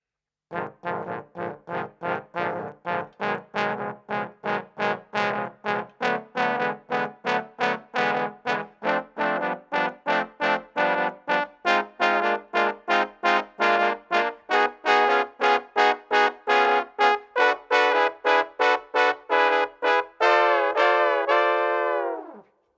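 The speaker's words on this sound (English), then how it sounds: "We are playing chords on the piano and hearing what they sound like on the trombone." A trombone sounds a minor seventh chord in first inversion, played as a long run of separate, evenly spaced notes that climb steadily through the instrument's whole range, loud and alone with no talk.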